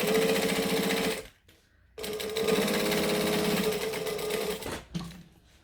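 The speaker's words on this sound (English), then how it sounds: "I'm going to top stitch just the exterior on a decorative stitch length" A sewing machine top stitches the exterior of a garment on a decorative stitch length, running loudly and steadily, pausing briefly near the start and again near the end.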